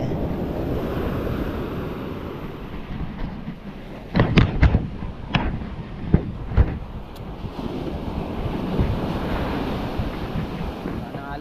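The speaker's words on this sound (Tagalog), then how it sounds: "Wow, lalaki na ng alon." Heavy surf rolls and crashes continuously at sea during a storm, with wind buffeting the microphone and a cluster of sharp splashing impacts partway through.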